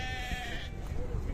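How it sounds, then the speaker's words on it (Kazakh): Sheep and lambs bleat at a livestock market, with one wavering bleat close by under a busy murmur of voices and crowd noise. "Қозылар бар екен. Қойлар бар екен достар."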